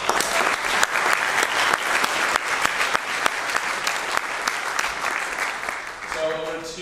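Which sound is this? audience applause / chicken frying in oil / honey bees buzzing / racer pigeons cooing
audience applause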